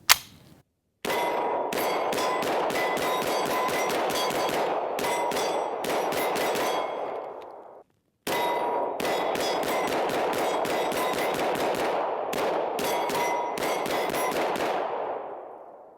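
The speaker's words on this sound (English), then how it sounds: "Going to load up, I guess, another 40 and shoot that" Rapid pistol shots from a Canik TTI Combat at an outdoor range, two long continuous strings of loud, sharp cracks with a brief pause between them, ringing and echoing with no talk.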